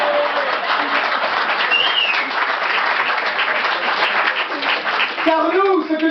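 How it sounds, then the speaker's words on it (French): Sustained applause from an audience, dense clapping that holds steady for several seconds, with a voice rising over it near the end. "oui vous pouvez m'applaudir"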